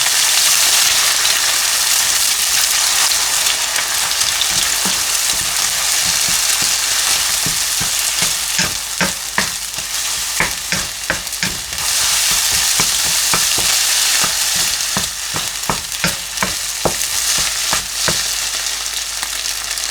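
Eggs sizzle steadily in hot oil in a pan for Thai fried rice with Chinese sausage, a loud continuous frying hiss up close, with a run of quick spatula scrapes and taps against the pan partway through.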